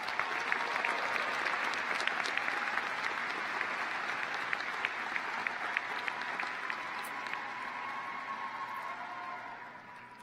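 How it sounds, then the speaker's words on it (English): Graduation audience at a College of Education ceremony breaks into a long, loud round of applause, dense steady clapping filling the room for about ten seconds before tapering slightly at the end. "let's just give each other another big round of applause."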